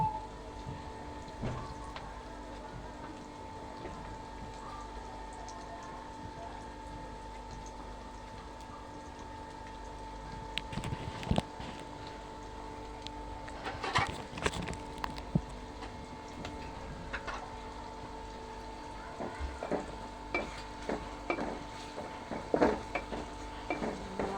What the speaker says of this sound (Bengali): আমি এগুলো একটু হালকা করে ভেজে নিচ্ছি হালকা করে ভেজে নিচ্ছি পেঁয়াজটা